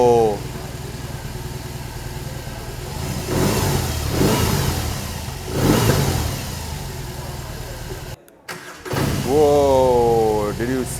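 A BMW R18 boxer-engine motorcycle revs up and settles several times, loud and close, with a brief dropout and a rising whine near the end.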